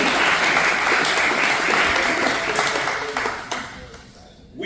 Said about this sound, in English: How about give Brother Kennedy a great hand clap